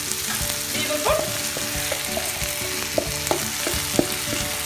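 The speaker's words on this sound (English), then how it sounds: "It has been frying for another 5 minutes now." Chicken pieces marinated for tawa chicken masala sizzle and fry steadily in a pan, a continuous close crackle with occasional sharper pops and light stirring clinks, no voices.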